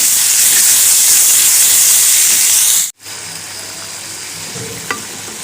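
Ginger-garlic paste frying in hot oil with browned onions gives a loud, steady, close hiss and sizzle that holds for about three seconds, then cuts off briefly and resumes more quietly, with no voices.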